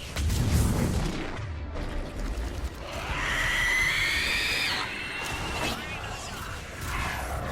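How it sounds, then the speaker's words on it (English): Missile launches and explosions in Mass Effect 3: a heavy booming blast up front, then a rising whoosh and rumbling detonations, with game voices talking over the action. "Missiles away."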